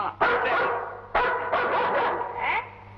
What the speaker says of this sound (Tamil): அல்சேஷன்.